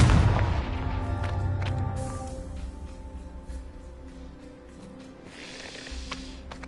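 Confringo spell blasts in Hogwarts Legacy: a heavy, close explosive boom at the start, then a long rumbling decay with scattered crackles and a smaller burst near the end, no voices.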